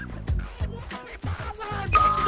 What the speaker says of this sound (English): You gotta wait for the bell